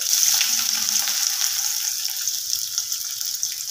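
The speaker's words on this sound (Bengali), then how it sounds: "কুচনো পেঁয়াজ দিয়ে দিলাম" Chopped onion frying in oil with cardamom, cloves and cinnamon, a steady close sizzle with faint stirring and scraping throughout, no talking.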